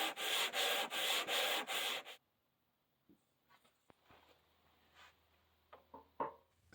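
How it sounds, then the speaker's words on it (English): Hand sanding a quarter sawn maple guitar body, about six rhythmic back-and-forth rasping strokes, close and loud, then stopping into quiet workshop handling noises and small clicks. "I'll sand a little bit on the body"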